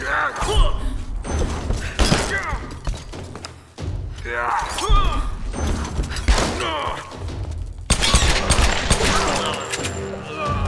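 Gunfire during a combat scene in Tomb Raider (2013), loud bursts, thuds and impacts in irregular clusters with brief pauses between volleys.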